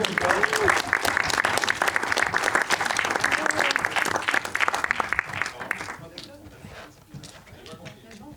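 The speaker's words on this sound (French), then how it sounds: "Bon, on applaudit tout le monde, allez," Guests at a party applaud everyone present, a lively burst of many hands clapping that stays strong for about six seconds and then thins to scattered claps, with voices talking over and after it.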